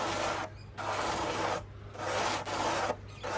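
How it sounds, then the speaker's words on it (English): Plastic scooter windshield edge being sanded by hand with 240 grit sandpaper, three long rasping strokes with brief pauses between them, steady and close with no talk. "So I've got some sandpaper. So I'm starting off with 240 grit."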